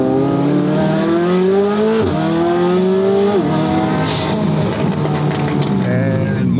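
A 1300 HP McLaren 720 GTR supercar, a one-of-one Gumball build, drives over street dips, its engine loud and close as revs climb and drop in repeated surges, with brief tire noise.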